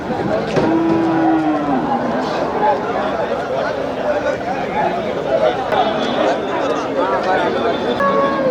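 Cattle mooing repeatedly at the Melapalayam cattle market, several long lowing calls from nearby animals rising over a constant crowd babble, with people talking throughout.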